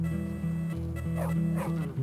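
A dog barks and yelps in the video game Bully Scholarship Edition, several sharp barks over a steady low game hum, fairly close and clear.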